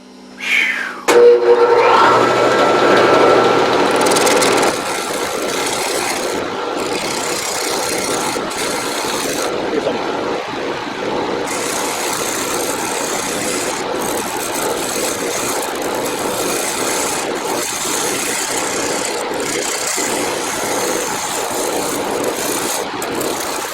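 A lathe turns a small live edge cherry bowl: a loud, steady whirring drone with scraping cut noise, louder for the first few seconds, then settling into a continuous, slightly quieter hum.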